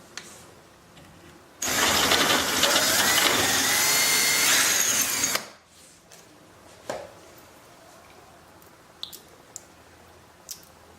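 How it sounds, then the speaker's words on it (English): A power drill runs loud and close for about four seconds, boring through the sponson mounting holes on a JC Racing SXR 1500 jet ski, then stops, followed by a few quiet clicks and handling noises. "then proceed to drill through the holes"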